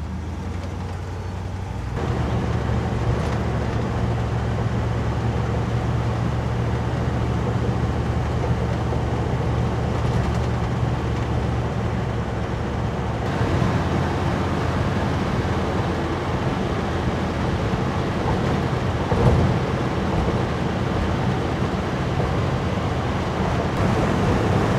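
A vehicle fitted with a 2-inch spacer drives along the road, giving a steady, continuous engine and road rumble with wind noise throughout and no talking.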